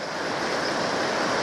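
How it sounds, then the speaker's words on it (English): A steady, loud rush of whitewater rapids on the Rio Chama in a New Mexico canyon, broadband churning water noise filling the short stretch without pause, no voices. "this is a pretty nasty set of whitewater rapids"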